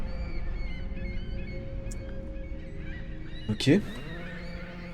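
Seagull calls in a horror video game set at a haunted lighthouse: a short burst of harsh, honking cries near the end, loud against a steady ambient drone, with a brief spoken word.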